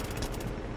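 Dense automatic gunfire in The Division, a continuous loud burst of rapid shots filling the whole moment with no talk over it.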